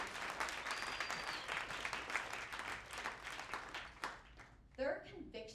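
Audience at a Broadway show claps in a sustained, dense round of applause that fades near the end, followed by a speaking voice.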